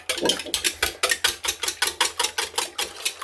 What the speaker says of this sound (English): Now we're going to want to whisk these eggs